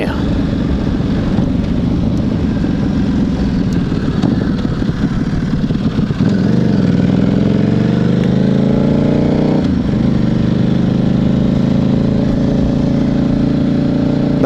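A 2009 Buell 1125R motorcycle engine runs loud and close with a rough, throbbing note. Its pitch climbs and falls twice as the throttle changes, and a voice can be heard under it.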